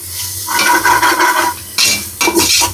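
Onions sauté in a pan and are stirred briskly, giving loud, close scraping strokes in uneven bursts over a steady frying sizzle, with no talking.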